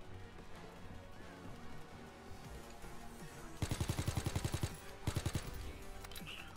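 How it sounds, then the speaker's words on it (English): Bursts of rapid automatic gunfire in Call of Duty WW2 multiplayer, two loud rattling volleys over a busy game background with fainter sounds before them. "What are you shooting at, dude?"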